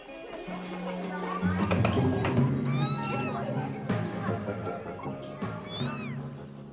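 Several cats and kittens meow repeatedly, with high, bending cries overlapping near the microphone, while a person speaks encouragingly in the background.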